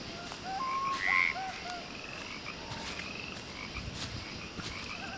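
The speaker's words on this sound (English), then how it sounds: "in swamps you'll hear frogs and insects" Frogs croak and chirp in a swampy soundscape in the video game Fallout 4, a few distinct calls rising over a dense bed of insect noise and faint ambience.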